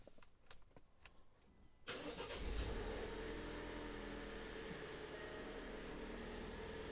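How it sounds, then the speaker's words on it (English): An Alfa Romeo Stelvio SUV starts after a few faint clicks: the starter catches with a sudden loud rise, the engine flares briefly, then settles into a steady idle close by. "Once you have your key fob on that icon, you can just start the vehicle as normal."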